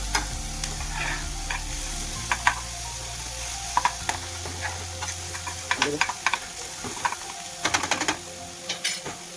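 A spoon stirs Gujarati yogurt kadhi in a pot over low heat with ginger-garlic paste added, giving repeated scraping and clinking strokes over a soft steady sizzle, close and moderately loud.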